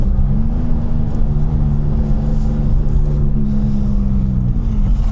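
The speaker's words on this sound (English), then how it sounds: "I decided to take out the E36 for a quick spin." A BMW E36 328i on a quick spin gives a loud, steady engine drone with rumbling road and wind noise. The car sounds close and constant throughout, and there is no talking.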